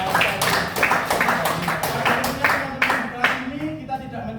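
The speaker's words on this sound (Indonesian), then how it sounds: "Tepuk tangan untuk kita semua." A classroom group claps in a lively burst of applause, rapid hand claps layered over a murmur of voices, fading out toward the end.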